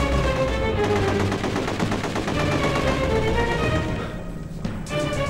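Gunfire from the video game The Getaway roars nonstop as dense, loud automatic bursts overlap with other shots into a chaotic barrage, thinning slightly near the end.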